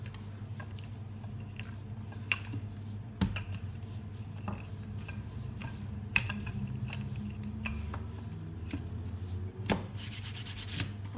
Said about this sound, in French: je vais venir étaler la pâte sur 1 cm